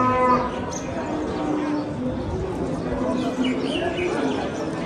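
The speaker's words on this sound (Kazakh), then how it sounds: "Бұл тарабы бағылған, жемделген бұқалар тұрады." Bulls low and moo amid the busy outdoor Osh cattle market, with a steady din of distant voices and a few birds chirping in the background.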